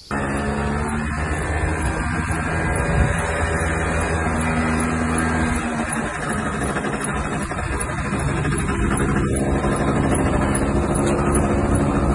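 A motorcycle engine drones steadily throughout, a continuous loud roar with wind rush and no voices.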